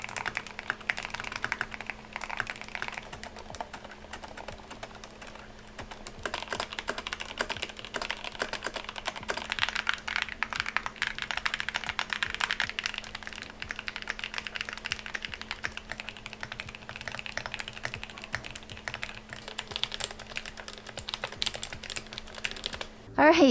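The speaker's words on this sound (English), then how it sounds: "here's a quick preview of my collection." Mechanical keyboards from a collection are typed on in a fast, continuous clatter of close, crisp key presses, with a low steady hum in the background.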